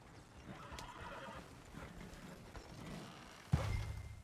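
Horses neigh faintly in the Western open-world game Red Dead Redemption 2, a soft whinny under ambient game noise, followed by a sharper clunk and a louder low rumble near the end.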